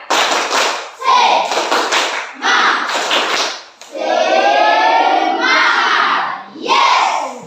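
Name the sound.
students doing a rhythmic spirit clap again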